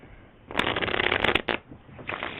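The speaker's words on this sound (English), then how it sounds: "I'm going to give the cards a shuffle" A deck of playing cards being shuffled up close, a dense riffling burst followed by a few shorter flutters, with no talking.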